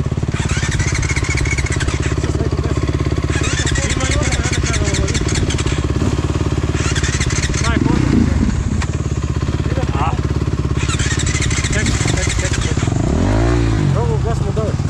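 A motorcycle engine revs loudly and repeatedly close by, throttle rising and falling in bursts, with people talking over the noise.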